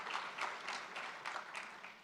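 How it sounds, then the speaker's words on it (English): Faint, thin applause from an audience at a residential real estate market review event honoring sponsors, heard as soft bursts of clapping at a distance. "Let's give them a round of applause."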